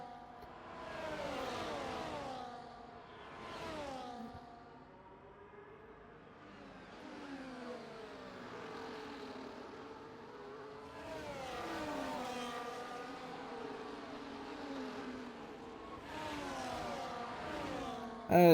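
Race cars in a racing video game near the end of a race, engines rising and falling in pitch as they rev and shift, several passes over a long stretch, with a commentator talking over them.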